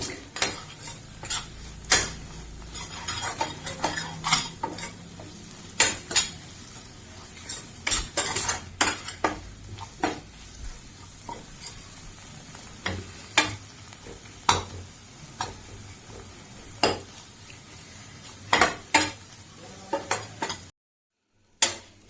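A spoon scrapes and clinks against a metal pan as dried raw-mango gojju is stirred in oil over a gas flame, giving irregular sharp taps and scrapes throughout, close and fairly loud, with a brief dropout near the end and no talk.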